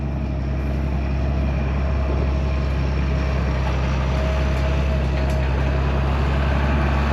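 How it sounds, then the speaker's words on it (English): A tractor pulling a heavy duty planter in a field, its engine a loud, steady, close drone with a deep rumble that holds constant throughout, no voices. "A heavy duty planter, guys. That tractor's snorting."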